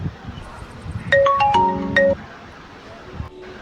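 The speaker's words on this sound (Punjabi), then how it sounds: "ਕਿਸੇ ਦਾ ਫੋਨ ਆ ਗਿਆ" A mobile phone ringtone chimes a short, bright electronic melody for about a second, loud and close, over low background chatter in a comedy movie scene.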